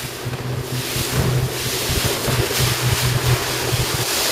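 A sailboat beats upwind under a code 2 jib, with steady rushing wind buffeting the microphone, waves slapping and hissing against the hull, and a constant loud broadband roar throughout.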